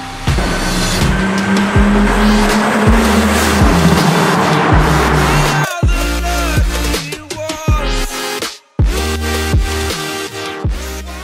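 A 1991 Toyota Supra Turbo revs hard with rising and falling engine tones through gear changes, loud and close, with bursts of tire squeal and a brief drop to near silence before the engine picks up again.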